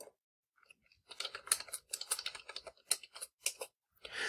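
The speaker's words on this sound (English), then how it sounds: "I'll go ahead and type in a line of Python code now." Typing a line of Python code on a computer keyboard, a quick irregular burst of close, crisp key clicks that starts after a brief silence and runs on steadily.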